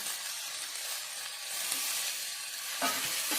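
Coriander and mint sautéing in a pan for farm chicken sambar give a steady, close sizzling hiss with a few soft stirring scrapes near the end.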